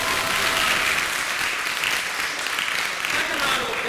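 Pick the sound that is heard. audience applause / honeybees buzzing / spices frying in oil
audience applause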